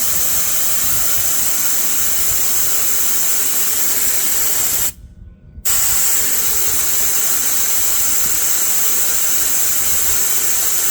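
A portable air compressor hisses steadily while inflating car tires, a loud continuous broadband rush that cuts off briefly midway before resuming just as strong.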